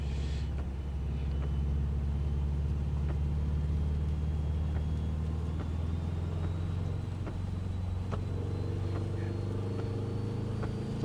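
A car drives on a wet road in the rain, heard from inside as a steady low engine and road rumble, with faint ticking and light hiss above it and no voices.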